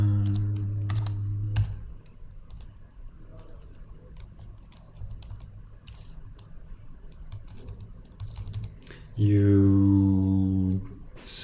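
Soft, irregular key clicks from typing on a computer keyboard, heard between stretches of someone talking, with loud humming tones at the start and end.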